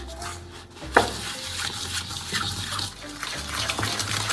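Coffee bean cookie dough being mixed until light and fluffy, giving a steady close scraping, churning sound with a few sharper knocks, moderately loud throughout with no speech.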